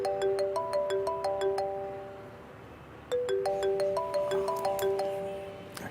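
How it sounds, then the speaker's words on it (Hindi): A melodic electronic mobile phone ringtone plays in two bursts of repeating chimes, pausing briefly before ringing again, loud and close with no talking. "क्या हो गया रिदा, क्यों बार बार फोन कर रही है तुम?"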